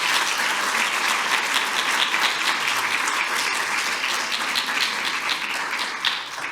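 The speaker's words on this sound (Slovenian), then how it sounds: "Tako da jaz mislim, da si zaslužijo še en aplavz." Sustained audience applause at a conference session fills the room, dense overlapping claps at a loud, steady level that begins to thin and fade near the end.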